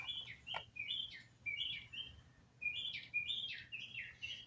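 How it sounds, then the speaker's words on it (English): Small birds sing outdoors near a bird feeder, with repeated bright chirps and short trills coming in bursts, soft and somewhat distant over a low background hum, and no talking. "birds are singing"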